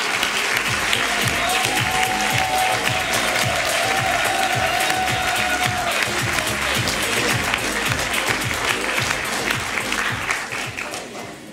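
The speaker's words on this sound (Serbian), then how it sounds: "Molim vas jedan aplauz." Sustained audience applause with some cheering fills a hall as a speaker is welcomed at a seminar on MLM, confidence and communication, steady and dense for about ten seconds before easing slightly at the end.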